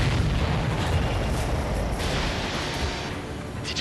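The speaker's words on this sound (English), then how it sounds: "Did you see that explosion?" A supply ship blows up in the video game Ace Combat 7, a broad, loud roaring boom that rumbles on steadily for several seconds, with no talk over it.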